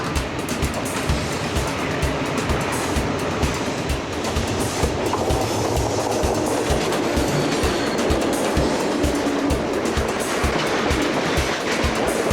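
A loud, steady rumble of an ALCO 251 diesel locomotive engine running along the rails, with a rhythmic clatter underneath and no voices.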